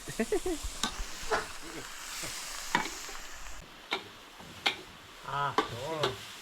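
Cicadas fry in an oil pan outdoors in a jungle setting. A quiet sizzle sits under repeated sharp stirring scrapes and knocks, and people talk over it.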